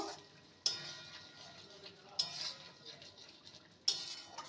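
Fennel and lady finger curry being stirred in a pan, with three sharp spoon-on-pan knocks spaced a couple of seconds apart over a soft background hiss.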